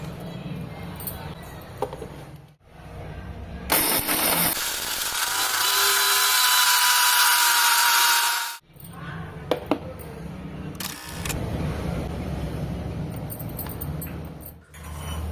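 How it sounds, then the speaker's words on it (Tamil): A kitchen mixer grinder runs on roasted curry leaves with rock salt and asafoetida, grinding them into powder. It gives a loud, steady whirring burst of about five seconds, with quieter handling noise before and after. "நல்லா ஆற விட்டு ஒரு மிக்சர் ஜாரில் எல்லாத்தையும் சேர்த்து கல்லுப்பு பெருங்காயம் ஆட் பண்ணி அரைச்சா கருவேப்பிலை பொடி ரெடி."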